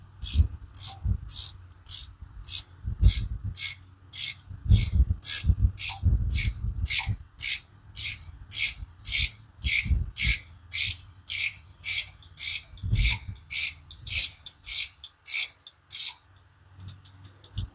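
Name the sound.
ratchet tightening bolts on engine hoist chain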